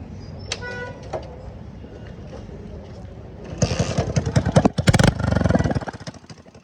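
A motorcycle fitted with an aftermarket silencer idles roughly, then revs up loudly in several sharp bursts with a raspy, loud exhaust note before settling back down.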